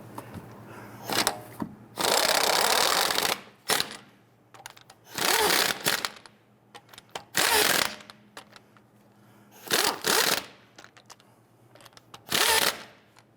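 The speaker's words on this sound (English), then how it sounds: "Now that we have all of the lug nuts started by hand, we can go ahead and snug those down." Rear lug nuts on a 2011-2021 Jeep Grand Cherokee snugged down with a power tool after being started by hand: five loud bursts of buzzing, each about a second long, separated by short pauses and clicks, close by with no talk.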